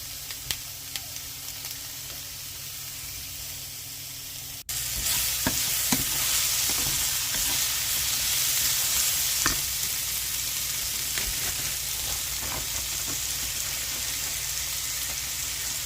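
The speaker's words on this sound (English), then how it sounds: "So I'm going to let these fry up until they get a little bit soft, and then I will add the rest of my vegetables." Vegetables fry in a pan, a steady close sizzle that jumps louder after a few seconds, with occasional stirring scrapes and pops throughout. No voices.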